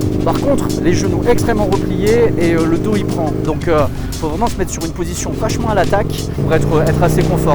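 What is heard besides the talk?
Aprilia RSV 1000 sport motorcycle riding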